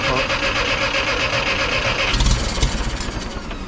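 A Case 530 Construction King forklift engine sputters and catches roughly, with a heavier low thumping surge partway through over a steady hissing, rattling background.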